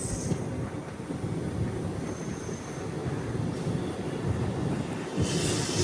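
An express train rolls steadily past the coach maintenance yard and pit lines at Chennai Egmore, a continuous loud rumble of wheels on rails with faint high squeal and rattling carriages, no voices.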